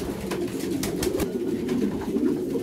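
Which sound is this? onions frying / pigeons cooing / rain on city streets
pigeons cooing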